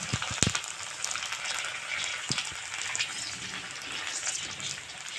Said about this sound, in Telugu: ఇలా వేసుకొని మంచిగా ఇలా ఫ్రై చేసుకోవాలి